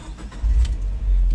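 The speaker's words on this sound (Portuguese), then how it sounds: "E o Peugeot está em funcionamento" A Peugeot 208 GT turbo starts with the key: a short crank, then the engine catches into a loud, steady low-pitched idle close by, with no talking.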